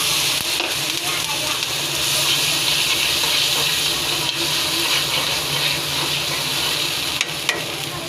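Vegetable curry in a pot coming to a boil with turmeric, chilli powder and garlic paste, a steady bubbling sizzle filling the clip with a few faint clinks and no clear speech.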